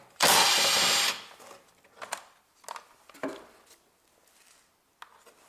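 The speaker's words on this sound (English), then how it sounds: "there is 2 10mm bolts in here, and I have to remove these" A tool removes 10mm bolts from a Toyota Prius fuse box, a one-second loud ratcheting or drill burst followed by several short metallic clicks and clunks, close and sparse.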